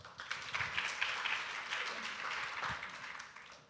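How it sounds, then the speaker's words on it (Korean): Steady applause from a forum audience at Korea University, a dense wash of clapping that holds for a few seconds at an even level. "박수로 맞으세요."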